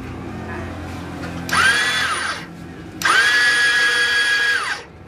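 Self starter motor on a Royal Enfield Bullet with a suspected faulty pinion and one-way bearing, whirring loudly in two bursts of about one and three seconds with a high steady whine, near and without speech.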